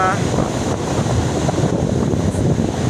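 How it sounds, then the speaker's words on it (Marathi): Rough, churning sea waves pound the shore at Achara beach in Malvan, with steady wind buffeting the microphone into a continuous, dense roar throughout. "हा समुद्राचं रौद्र रूप असा खवळलेला आहे बघा"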